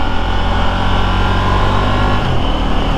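A KTM Duke 890R motorcycle engine on a test ride, loud and close, a steady droning roar with the pitch shifting slightly near the end, no talking.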